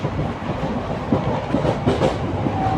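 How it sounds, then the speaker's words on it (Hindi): The 54532 Kalka–Ambala Cantt passenger train rolls through a curve on the Baddi line, its wheels drumming with a steady rumble and faint clickety-clack over the rails, close and continuous. "तो ये ट्रेन ने बहुत अच्छा कर्व लिया।"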